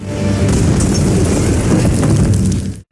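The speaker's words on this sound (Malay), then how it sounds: "pintu meledak." A loud, sustained explosive roar fills the space for a few seconds, dense and rumbling, before cutting off abruptly.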